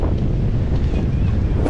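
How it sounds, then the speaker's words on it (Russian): Strong wind at a huge lake, roaring steadily and loudly across the microphone as a dense, unbroken low rush with no talking. "Вот это ветрище,"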